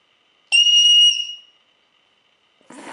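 A voice imitates a carbon monoxide detector with a single loud, piercing electronic beep that fades out, followed by silence and the start of another sound at the end.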